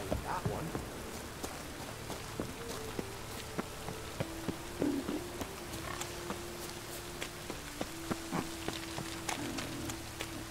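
Steady rain patters and hisses in the video game Witcher 3 with scattered droplet ticks, accompanied by a sustained low electronic tone and occasional soft thuds.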